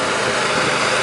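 The engine of a 2007 Tiger auger bucket truck idling after cranking up, a steady dense rumble, close and loud, with no break across the short stretch.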